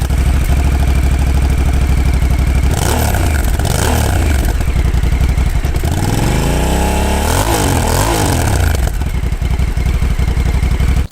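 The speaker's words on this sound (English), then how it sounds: "gives it that more pulsing exhaust note down in low revs" A Honda Africa Twin adventure motorcycle engine runs loud and close at low revs, its pulsing exhaust note throbbing with a couple of blips and rises in revs before settling back.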